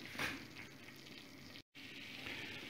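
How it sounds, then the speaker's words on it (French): Lasagna sauce stirred constantly in a pan over high heat gives a soft, steady sizzle and frying hiss with light scraping, fairly quiet, with one brief dropout. "Et on touille sans arrêt pour que ça prenne sans attacher au fond."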